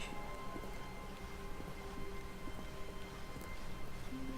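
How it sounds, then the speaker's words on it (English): Soft rain and wind ambience in The Stanley Parable video game, a steady, faint hiss of rainfall with a low rumble beneath, no talk. "A soft wind blew outside and perhaps rain started"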